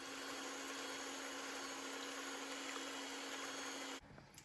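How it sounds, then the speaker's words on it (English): An electric mixer beats fruit cake batter with a steady, loud motor whir and faint scraping, then cuts off abruptly near the end. "I think I'm actually going to pull out my mixer to beat it"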